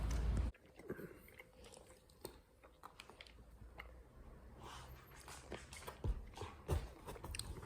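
Someone eating cheap supermarket sushi from Woolworths, with soft close-up chewing and biting sounds, faint rustles and small crunches spread through the clip, no talking.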